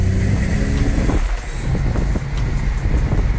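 A stage 3 Audi Allroad accelerates hard with heavy wheels, its engine droning loud from inside the cabin under steady road and wind roar, the pitch shifting as it pulls.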